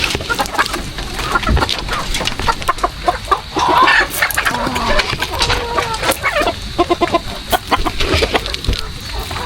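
Chickens clucking and squabbling over feed near a fishpond, close and busy with overlapping calls and some rustling.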